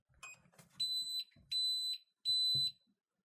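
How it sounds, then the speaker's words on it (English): A Mango Power E portable power station beeps as its DC output is switched on: three shrill, evenly spaced electronic tones, each about half a second long, close and clear after a brief murmur of talk. "It's the most annoying beep in the world whenever you turn on the DC"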